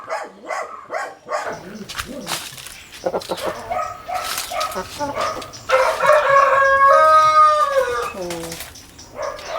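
Several chickens, including Columbian and Brahma breeds, cluck on a farm, and a rooster crows loudly in a long drawn-out call near the end, with voices talking in the background.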